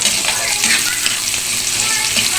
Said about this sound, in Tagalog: Ayan, nilulog na po natin ang sibuyas.